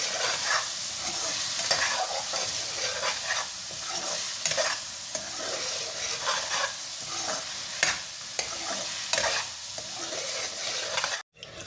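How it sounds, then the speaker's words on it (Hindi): Steady sizzling of masala and potatoes frying, with repeated scraping and stirring strokes, close and fairly loud, continuing throughout before cutting off abruptly at the end. "हमने इसको उस टाइम तक भूनते रहेंगे जब तक हमारे आलू अच्छे से गल न जाए।"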